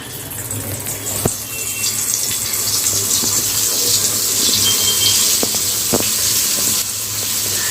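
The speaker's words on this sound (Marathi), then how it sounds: "तेल गरम झालं की आपल्याला ह्या लगेच फ्राय करून घ्यायचे आहेत" Aloo matar tikki fry in shallow hot oil, giving a steady, close sizzling hiss throughout with a few small pops and crackles, and no voices.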